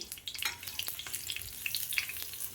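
Alu vadi, colocasia-leaf rolls, frying in a hot pan at home, giving a steady close sizzle with scattered crackling pops that runs alone throughout, with no voices.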